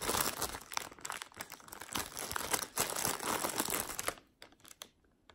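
Crinkly plastic packaging from a Japanese Lawson convenience store pancake pack being cut and torn open, a busy stream of close crackling and rustling that stops abruptly near the end, leaving faint handling noises.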